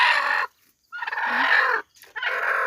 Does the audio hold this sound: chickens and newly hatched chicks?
yes